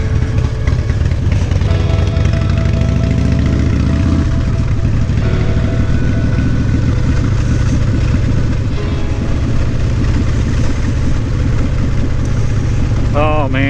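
A Harley Davidson Street Glide motorcycle on a ride to work, its engine giving a constant loud rumble with wind noise, and a rising tone as it speeds up, while someone talks over it.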